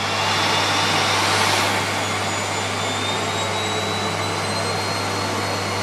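Miele Complete C3 vacuum cleaner running at its maximum power setting, a loud close rushing roar with a brief surge early on, then a steady airflow hiss and thin whine.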